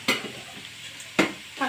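A spoon scrapes a pan of Uttara Karnataka-style vegetable palya with turmeric and sugar or jaggery, three sharp stirring scrapes over a steady low sizzle.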